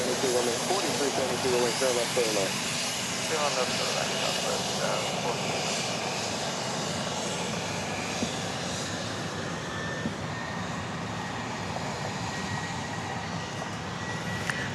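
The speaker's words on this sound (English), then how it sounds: "that Trijet was, by the way, a Dassault Falcon 8X." Engines of a Dassault Falcon 8X trijet at Dallas Love Field after dark, a steady broadband roar held for the whole stretch, with a voice talking over it at the start.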